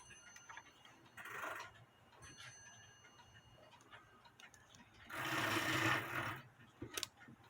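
A cuckoo clock that ticks while its hands fail to turn gives quiet, close ticks. Two louder bursts of mechanical whirring and handling noise break in between the ticks.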